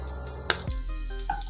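Paneer pieces fry in a hot pan for paneer butter masala, giving a steady close sizzle with a brief clatter partway through and no voices.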